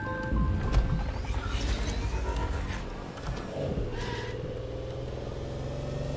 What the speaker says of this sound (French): on va peut-être quand même prendre une voiture